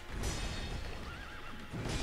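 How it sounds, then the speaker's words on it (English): A horse in the video game Sekiro: Shadows Die Twice neighs loudly in a long, wavering whinny over a dense layer of game ambience, with faint hoof clatter beneath. "I got kicked by a horse."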